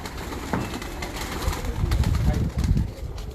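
Pigeons coo in low, throaty pulses in a Sialkot pigeon keeper's loft, the cooing swelling in the second half over background chatter and handling noise.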